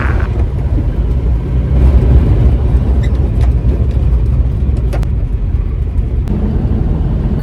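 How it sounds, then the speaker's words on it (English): Loud, continuous road traffic rumbles close by beside a parked bus, with vehicles passing in a dense, steady wash of engine and tire noise. "We got more loud traffic right here on the other side of my bus."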